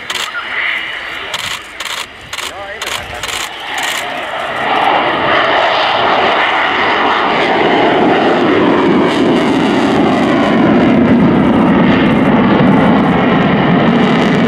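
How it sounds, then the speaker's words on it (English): A Sukhoi Su-27 Flanker jet fighter making a slow display pass with undercarriage lowering at an air show, a loud sustained jet roar building after rattling near the start, with commentary talking over it. "the slow pass now down at about 150 with the undercarriage coming down"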